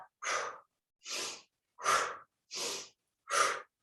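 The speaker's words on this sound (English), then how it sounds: "We're going to push back and blow through the mouth." Five forceful exhales through the mouth during yoga breathing, evenly spaced about three-quarters of a second apart, breathy and close with silence between each blow.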